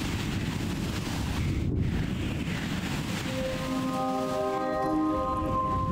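A Windfaust wind spell cast in the game Gothic makes a steady, loud rushing gust that briefly drops away. It then swells again beneath a shimmering cluster of sustained, rising tones, with no voices.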